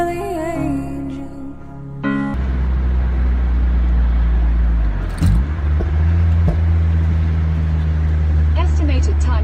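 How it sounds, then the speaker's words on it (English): A car creeps through slow road traffic, its engine a steady low rumble heard from inside the car. Brief melodic sounds at the start give way to a constant hum, with a short louder bump midway. "Traffic slow up at the same spot every time."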